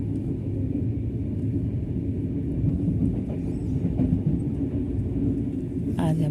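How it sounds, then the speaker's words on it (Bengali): A big passenger train rumbles steadily along the rails, a loud, continuous low roar heard from on board with faint clatter and no clear talk. "সামনে একটা মস্ত বড় রেলগাড়ি।"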